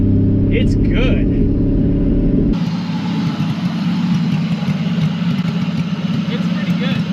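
A 1972 Pontiac Ventura Sprint engine idles with no exhaust fitted, a loud, raw, continuous rumble close by, with a brief whine at the start before it settles into steady rough chugging.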